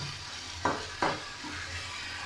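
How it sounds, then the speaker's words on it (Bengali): Spices frying in ghee in a pan for a vegetarian moong dal dish, a steady soft sizzle with two sharp scraping stir strokes near the middle and a lighter one after. "মশলাটা ভাজা হয়ে গেছে"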